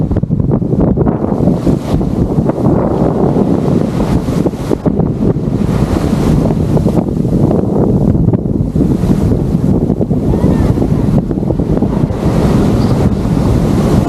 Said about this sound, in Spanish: hoy es un día feo y vino soplando el viento del sur